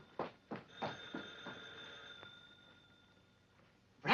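An old-fashioned telephone bell rings in a 1941 comedy film, a few rapid bright bursts followed by a sustained ringing tone that fades out, then another loud burst at the end, fairly clear over a quiet background.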